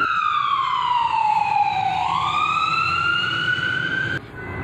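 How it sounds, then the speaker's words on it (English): A passing ambulance siren wails loud and close in a single long sweeping tone that drops in pitch as it goes by, beside a railway line with a steady road rumble underneath, and cuts off sharply near the end. "an ambulance went by."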